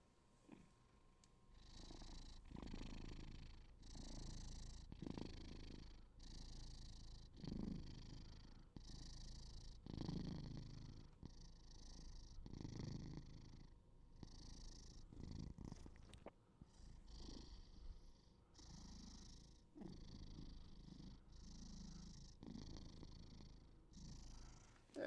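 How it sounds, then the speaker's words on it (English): A white cat purrs in Minecraft, a soft, steady rhythmic rumble pulsing in regular breaths for a long stretch, close and quiet. "Just getting him warmed up with the purrin."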